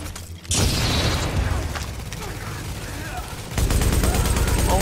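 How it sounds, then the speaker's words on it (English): Sticky bomb blast in The Division during a tense firefight: a sudden loud boom bursts in after a brief quiet, followed by sustained gunfire and rumbling game noise, with voices talking over the action. "I'm going to chuck my sticky bomb in and blind them"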